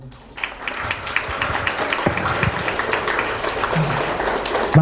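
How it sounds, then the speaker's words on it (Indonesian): An audience gives a round of applause for Pandawara, with dense, continuous clapping that starts suddenly and holds steady at a moderate level for several seconds. "kita harus kasih aplaus dulu deh buat Pandawara dulu"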